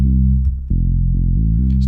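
A sustained, buzzy synth tone with a distortion effect and gritty harmonics, shifting pitch a few times, steady and loud throughout.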